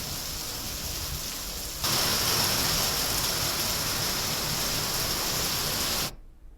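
Rain falls as a continuous broadband wash, softer at first, then suddenly louder and fuller for several seconds before stopping abruptly.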